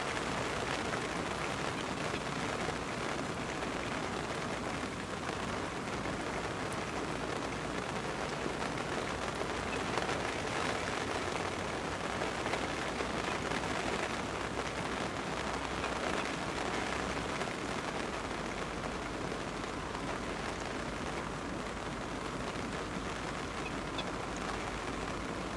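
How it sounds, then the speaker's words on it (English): Steady December rain falls outdoors at a fishing spot, a dense, even hiss of drops on surfaces that continues unbroken throughout with no voices. "It's been raining since about 1 o'clock this afternoon."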